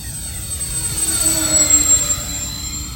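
A Flightline RC B-24 Liberator model bomber with a 2000mm wingspan drones steadily overhead on its landing approach with gear down, a continuous, moderately loud whir of motors and props with a faint high whine and no voices.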